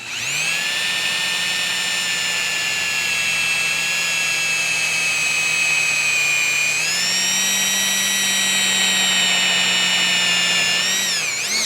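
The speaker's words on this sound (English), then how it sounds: "let's drill that second hole." A power drill whines steadily through sheet metal for about eleven seconds, loud and close, its pitch dipping briefly partway through before finishing.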